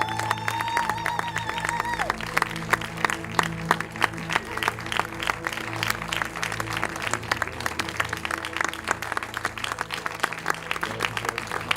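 An audience applauds a film crew and villagers at a making-of event for Chiens Rouges. The clapping is dense and sustained for about twelve seconds, with a brief voice near the start.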